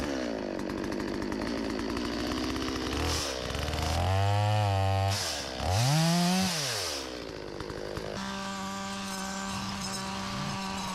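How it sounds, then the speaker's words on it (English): A chainsaw runs loud and close in a vineyard, its engine revving up and down in sharp surges as it bites through saplings, then settles to a steady idle. "We'll use a chainsaw for the saplings and a brush cutter for the heavy growth."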